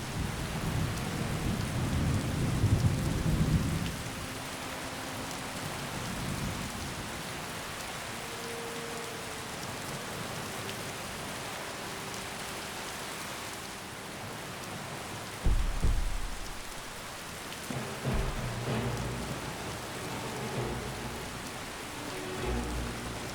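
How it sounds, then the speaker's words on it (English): Rain and thunder weather in a video game: heavy, steady rain hisses throughout, a deep rolling thunder rumble opens the scene and a second sharp thunderclap cracks about two-thirds through, then fades back under the downpour. "Can I turn the weather down?"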